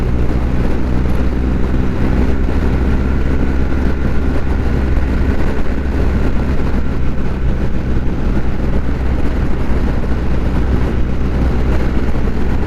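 A BMW R1200GSA adventure motorcycle's engine runs while riding, a loud, continuous low drone mixed with steady wind rush, sustained and unbroken throughout.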